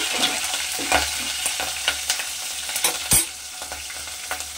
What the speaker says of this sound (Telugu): ఇప్పుడు చిల్లీస్ వేసుకుందాం. అవి కొంచెం వేగిన తర్వాత